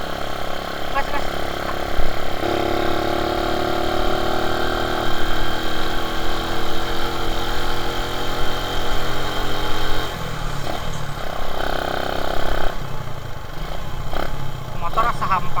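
A motorcycle engine runs steadily at a moderate, constant level through the whole stretch, with a few small shifts in pitch; no talk is heard over it.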